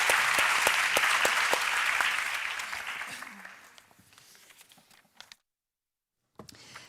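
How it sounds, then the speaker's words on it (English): Conference audience applause for a panel of speakers, starting as a full round of clapping that fades to a few scattered claps, a short silence, then a couple of last claps. "So a round of applause to our wonderful speakers"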